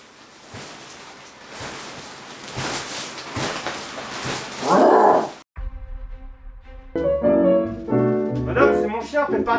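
Dog barking, a series of loud close barks with some whimpering over noisy background sound, followed by a voice that seems to imitate a dog in a theatrical way.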